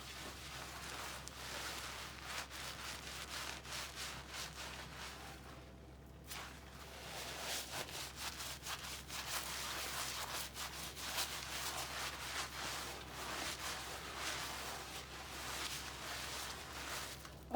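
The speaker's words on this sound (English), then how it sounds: "I'll still rub more of this soap because I really want enough of this soap in her hair." Soapy hands rub and massage shampoo into a person's hair during a dandruff-removing wash, giving a steady, close, soft scrubbing and rustling texture with a brief pause partway through and a low background hum.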